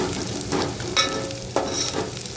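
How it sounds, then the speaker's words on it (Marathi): Onion sautéing with ginger and garlic for soybean pulao, a continuous close sizzle in the pan broken by a few scraping stirs of the spatula. "आता कांद्यासोबत आपण हे आलं लसूण सगळं परतून घेणार आहोत जे आपला कांदा चांगला लालसर होईपर्यंत हे परतून घ्यायचं आहे"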